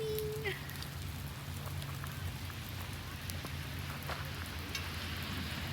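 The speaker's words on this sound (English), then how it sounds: "It's raining." Steady rain falling outdoors in Alaska, a continuous soft hiss and patter heard alone at moderate distance with a few faint background noises.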